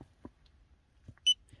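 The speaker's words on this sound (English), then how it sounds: "There it beeps, but we'll keep it off for this review" An OBDScar OS601 OBD2 code reader gives a single short, high electronic beep, faint and alone against a quiet background.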